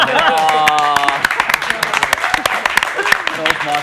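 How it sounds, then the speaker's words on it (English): An audience applauds a guest on a live music talk show, with dense clapping and a crowd close and loud, while music or voices continue underneath. "let's give him a round of applause"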